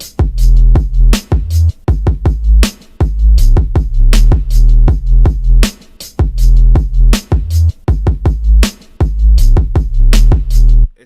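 A loud electronic drop from an FL Studio project, with hard kicks driving a side-chained sub bass that pumps and pauses between hits, plus bright percussive transients and brief gaps in a repeating pattern.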